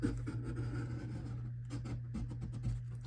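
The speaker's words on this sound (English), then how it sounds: "really come in here and just push down. Almost kind of varnish the tape down" Tape is rubbed firmly down onto a junk journal page, a steady close scratchy friction over a constant low background hum.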